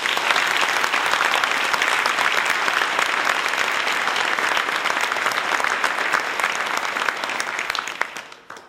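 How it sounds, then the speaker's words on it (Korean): An auditorium crowd at a corporate innovation concert claps warmly in a dense, even ovation that lasts several seconds before tapering off. "여러분과 여러분의 동료에게 격려와 뜨거운 감사의 박수를 부탁드리겠습니다"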